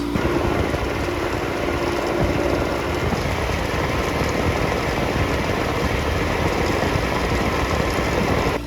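A Carrier Supra 850 refrigeration unit's small engine runs continuously at a steady, droning pitch, loud and close, with no change in speed or any voices.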